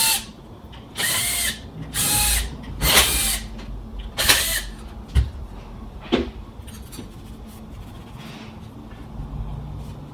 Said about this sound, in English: you can use an 1/8 inch Allen wrench in a driver